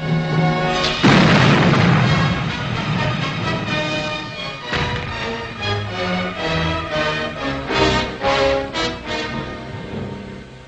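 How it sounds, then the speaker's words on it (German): A pirate ship's cannons fire in heavy booms with crashing blasts, followed by a sequence of rhythmic thuds and bangs, loud and close with no speech. "Stoppt ihn mit 2 Schuss vor dem Bug und hisst die Piratenflagge."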